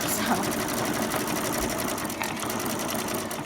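A sewing machine top stitching a fabric mug rug, running in a steady fast whir with a close, continuous mechanical rhythm throughout.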